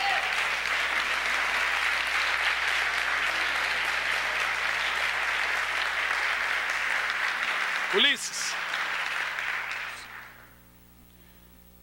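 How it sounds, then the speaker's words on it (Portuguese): A church congregation breaks into loud, continuous applause that fills the room for about ten seconds before stopping abruptly, with a brief spoken word partway through. "Vamos aplaudir Jesus."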